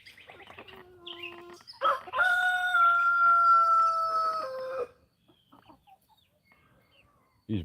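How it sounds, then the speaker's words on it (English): Brahma roosters at a farm coop: scattered low clucks lead into one loud, drawn-out crow lasting a few seconds, then near quiet with a faint cluck at the end. "These Brahma roosters are so loud."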